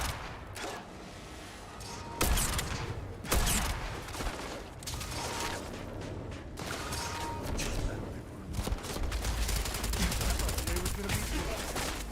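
Gunfire in the space game Starfield, against a cloaked enemy: sharp shots come in bursts and single cracks throughout, fairly loud and close, with busy combat noise between the shots.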